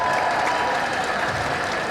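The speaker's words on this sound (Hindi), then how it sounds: "जनाब शाह साहब के लिए बहुत भरपूर तालियां जरा।" Audience applause for Shah Sahib at a gathering in Quetta, a dense, loud burst of many hands clapping continuously without pause.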